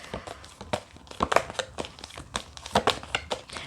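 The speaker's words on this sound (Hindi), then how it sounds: "अगर आप कभी भी शफल कर रहे हो कार्ड्स" Tarot cards shuffled by hand up close, a quick run of dry papery riffles and crinkly slaps in uneven bursts, with no voice over them.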